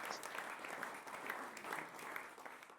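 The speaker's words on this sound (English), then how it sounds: "Let's give Terri a round of applause." Steady audience applause at a state committee meeting, a dense continuous wash of many hands clapping, evenly sustained and fairly faint, as if heard from across a large room.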